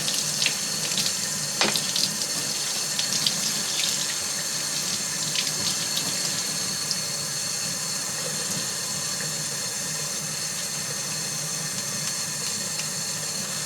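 Tap water running steadily over parts of a Tecumseh 8HP HM80 carburetor from a Troybilt Horse tiller being rinsed, a constant close hiss and splash with occasional small clinks.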